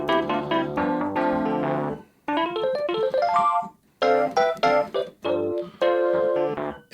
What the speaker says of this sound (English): really carefully tweaked electric piano